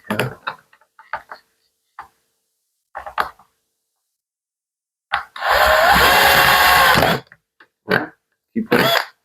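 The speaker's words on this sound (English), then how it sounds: "I just want to try a different drill bit." Power drill boring into the steel lid of a homemade bedside lamp with a wood bit, one sustained whining grind of about two seconds, between short bursts of talk and handling knocks.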